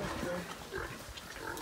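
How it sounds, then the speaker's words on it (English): Pigs in a hog pen in Westmoreland, Jamaica, give short grunts and oinks under people talking nearby, a few close squeals scattered through the clip. "look at the pigs, man"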